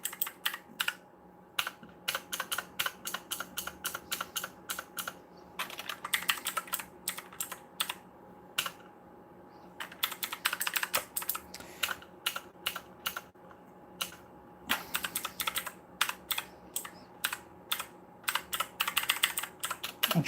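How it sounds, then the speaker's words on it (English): Someone types on a computer keyboard during PC troubleshooting, a steady run of close, crisp key clicks in bursts with short pauses, over faint fan hum and no talk. "Just look at this keyboard."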